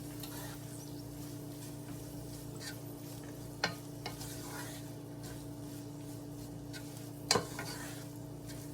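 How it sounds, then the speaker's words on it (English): Chicken stew with shredded chicken is stirred in a pot on the stove, a quiet steady simmer with a low hum and a couple of sharp spoon-on-pot scrapes and clinks, close and without talk. "Give that a stir."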